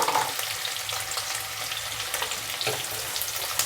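Carrot, pea and potato pieces fry in a pan for curry, giving a continuous close, even sizzle with a faint crackle throughout and no talking.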